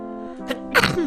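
A single close, sharp sneeze bursts out after a brief inhaling build-up, loud and abrupt in a quiet room.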